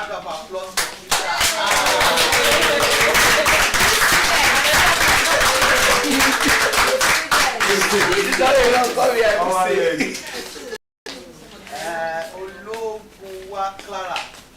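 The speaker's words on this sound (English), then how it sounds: "A round of applause for Peter" At a reality TV show event, a crowd gives sustained, loud applause. Dense, rapid clapping is mixed with cheering voices, then it breaks off and scattered voices follow.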